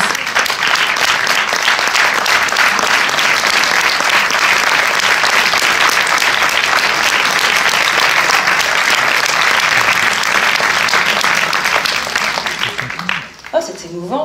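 Loud, dense applause from a cinema premiere audience in Paris greeting Costa-Gavras, a steady wash of clapping that holds strong for about thirteen seconds before breaking off at the end.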